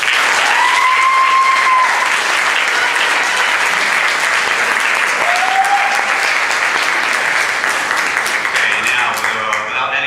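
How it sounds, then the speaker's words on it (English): An audience at a high school Air Force ROTC ceremony claps in a loud, sustained round of applause filling the hall for about ten seconds. "why don't all of you give yourselves a round of applause"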